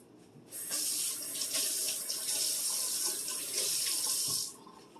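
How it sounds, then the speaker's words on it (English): Water runs and splashes onto a metal baking pan or cookie sheet in a kitchen, a steady hissing pour lasting about four seconds before cutting off. "I'm going to splash some water on my pan here"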